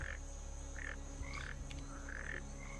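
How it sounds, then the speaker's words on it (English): Frogs croak in the video game Path of Exile, with several short, separate croaks spaced a moment apart over a steady ambient game drone, no talking. "Oh my god, frogs."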